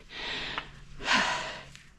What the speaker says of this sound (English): I hope you enjoyed the heavy breathing